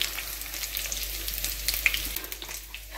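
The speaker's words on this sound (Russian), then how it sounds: "Оладушки жарятся." Pancakes (small Russian oladyi) sizzle steadily in an oiled pan, a continuous close crackling frying hiss with little pops throughout, no voices.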